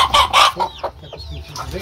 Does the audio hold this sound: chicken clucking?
yes